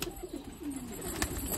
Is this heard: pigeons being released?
yes